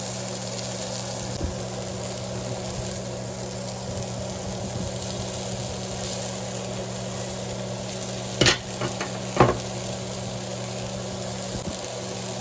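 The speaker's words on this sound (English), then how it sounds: "You want to go ahead and whisk those around as well." Carrots and other vegetables frying in a pan for Caribbean-style fried cabbage, a continuous even sizzle with a couple of brief scrapes near the end, moderately close, no voices.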